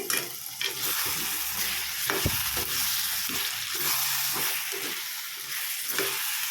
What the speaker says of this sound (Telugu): టమాటా ఒకసారి కలుపుకుందాము